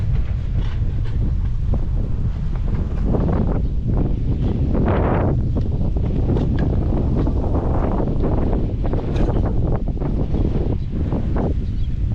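Strong wind blows steadily across the microphone, a constant buffeting roar with gusts swelling and easing throughout. No voices.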